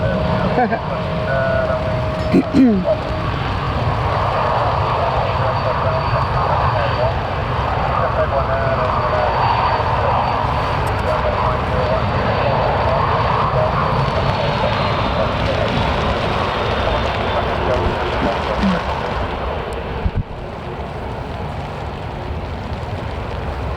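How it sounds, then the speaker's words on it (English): A Jet2 Boeing 737-800 airliner taxis toward the runway at Manchester Airport during a storm, its engines giving a steady, loud broadband roar throughout, with wind and rain noise and a few brief clunks. "heading for the runway, we've got a Jet 2 going to Venice, Boeing 737-800"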